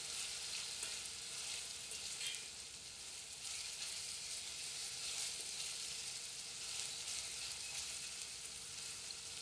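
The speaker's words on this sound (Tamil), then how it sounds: "அரிஞ்சு வச்ச வெங்காயம் பச்சை மிளகாய் போட்டு நல்லா வதக்கிட்டு" Chopped onions and green chilies sautéing in oil in a pan, a steady, dense hiss of frying that holds evenly throughout, close and fairly loud with no talking.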